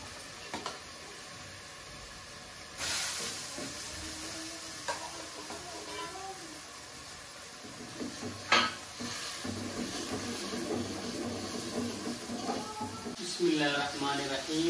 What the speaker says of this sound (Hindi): अब इसको 10-15 मिनट के लिए इसको भूनेंगे अच्छे तरीके से